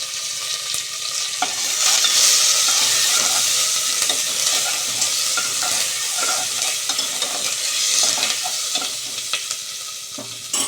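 Loud, steady sizzling of onions and curry leaves frying in hot oil for tempering, with occasional stirring scrapes, continuous with no voices.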